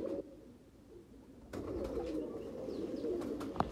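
Sialkoti breeder pigeons cooing softly in a low, rolling murmur that swells and continues, close by with faint background noise and a brief sharp tap near the end.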